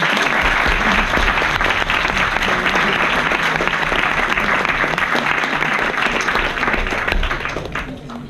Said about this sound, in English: giving a huge round of applause to both sides